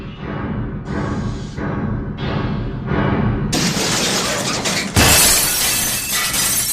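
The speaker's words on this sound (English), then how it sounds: "A shower of broken glass rained down on his roof, and something heavy landed on the ground nearby." A broken headlight's glass shatters and falls, giving a loud burst of breaking glass followed by a dense, bright crash that keeps ringing out with no voices over it.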